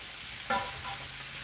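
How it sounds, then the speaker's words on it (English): Vegetables sauté in olive oil in a wok, a soft, steady low sizzle with a brief louder stir or clatter near the start, quiet and close with no talking. "We sauteing, man. That's what we're doing. Look, got my wok ready."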